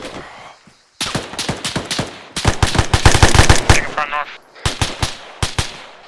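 Deliberate gunfire during close-quarters battle training in a built-up area: loud, close shots crack out in rapid clusters and short bursts, pausing briefly between volleys, with a faint voice briefly in the mix.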